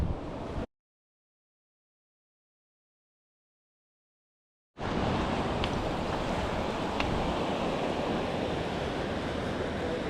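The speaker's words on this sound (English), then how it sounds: "Wild ocean." Wild ocean waves on the West Coast Trail, a broad wash of surf with wind buffeting the microphone, cut off abruptly for several seconds of silence before the roar returns loud and continuous.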